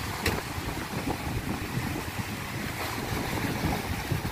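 Heavy sea waves churn and crash without pause after Typhoon Quinta and strong monsoon winds, a dense roaring surf mixed with gusting wind buffeting the microphone.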